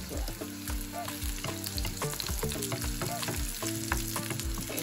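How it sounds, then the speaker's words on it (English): Onions fry in a pot for a home-style chicken dish, a quiet steady sizzle with repeated soft scraping and knocking of stirring, close up with no talking. "then we'll start frying these ones"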